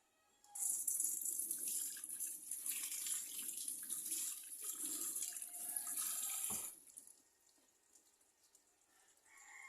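Serpentina leaves rinsed under a running tap, a steady close hiss of water over a sink from about half a second to six and a half seconds, then quieter dripping and handling.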